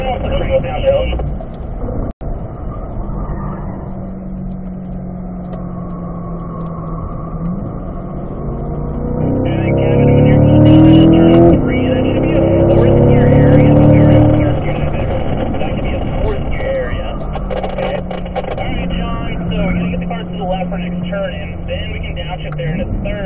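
A car engine pulls hard through the gears on a race track at a driving school, rising and falling in pitch as it revs, shifts and accelerates downhill, with an instructor talking over it.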